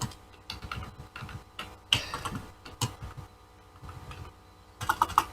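Typing on a computer keyboard while writing jQuery/JavaScript hide-and-show code: a fast, uneven run of close, light key clicks with a few sharper, louder strikes, heard alone without talk.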